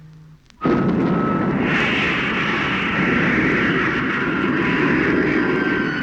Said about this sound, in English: I'm going to cut in the motor.